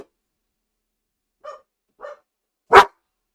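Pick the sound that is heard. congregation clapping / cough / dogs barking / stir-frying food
dogs barking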